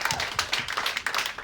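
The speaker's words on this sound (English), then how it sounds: "Fucking one more round of applause for Angie" Audience clapping and applauding at a Los Angeles comedy roast battle, a brief dense burst of hand claps close by, filling the short moment without voices.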